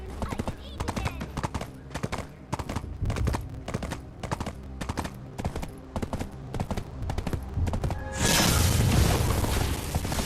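Horse hooves clip-clop in a steady rapid rhythm in the online game Black Desert Online, loud and close, ending in a burst of broadband noise.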